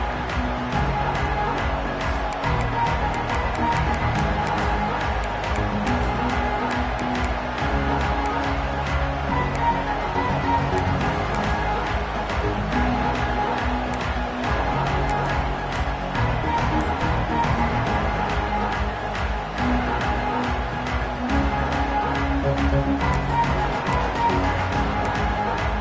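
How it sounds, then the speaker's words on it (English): A packed stadium crowd at a college football night game roars and cheers in a continuous, loud wall of noise that holds steady throughout, with a band playing underneath. "Night games are always so loud, so obnoxious, and these fans, they get something to cheer about"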